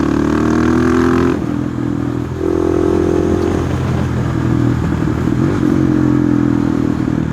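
A 2020 KTM 690 SMC R motorcycle engine drones loudly up close while riding, its pitch shifting as the rider shifts and accelerates, with wind noise throughout.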